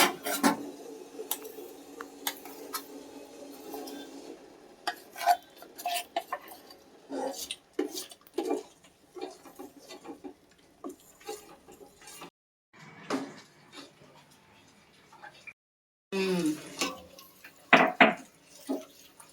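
A utensil scrapes and clacks against a metal pot in irregular bursts while stirring rice flour into hot ghee, with brief quiet gaps between the stirring strokes.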